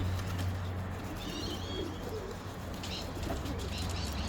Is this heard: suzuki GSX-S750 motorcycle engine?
no